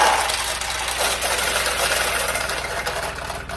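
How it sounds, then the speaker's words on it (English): Metal balls drop into the middle hopper of a restored 1972 Nishijin Model A pachinko machine. A fast, even rattling whir runs steadily up close, with no talking over it. "the balls will drop out, go down through here into the turnaround, start to fill up the middle hopper"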